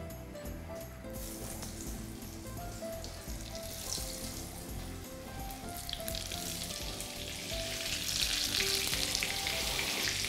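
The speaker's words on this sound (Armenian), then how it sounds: "և տապակենք մնացածը։" Eggplant slices frying in a pan with soy, a steady close sizzle throughout that grows louder and brighter toward the end, with no voices.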